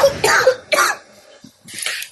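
A person coughs loudly several times in short, harsh bursts, with a brief throat-clearing pause in between, close by and with no talking.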